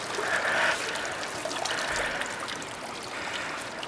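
River water flowing over stones, a continuous hissing rush with gentle swells, steady and moderately close, heard with no voices over it.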